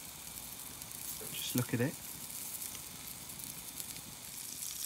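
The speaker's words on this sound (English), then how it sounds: "Just listen to the butter and the juices just running down into the gullies" Butter and meat juices sizzle on a tomahawk steak over an outdoor barbecue fire at night, a steady soft hiss running throughout beneath a brief spoken remark.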